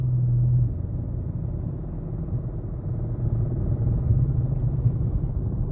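A low, steady engine rumble heard from inside a Dodge Charger R/T with a suspected engine problem, deep and continuous with a slight droning hum, no talking.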